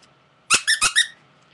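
A squeaky plush squirrel toy gives four quick, sharp squeaks in a tight burst. The squeaks are close and clear against a quiet room.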